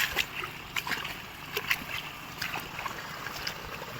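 River water diverted through a small irrigation channel in a rice field, a continuous close trickling and gurgling with occasional splashes, moderately quiet, with no talking.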